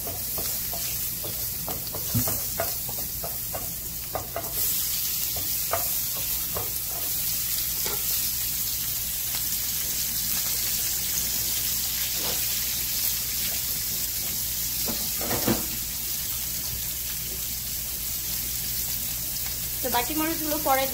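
Chopped ginger stirred and fried with prawns in a pan, a continuous sizzle with repeated spatula scrapes and knocks, close by, ending in a rapid rattle of stirring.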